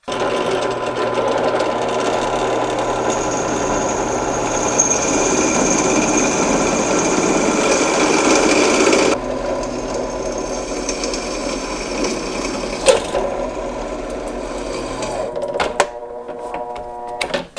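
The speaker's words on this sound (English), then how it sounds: "let's drill this out" A drill whines steadily as it bores through metal for a custom Harley-Davidson turn signal, then stops abruptly, followed by a few clinks and a brief rattle.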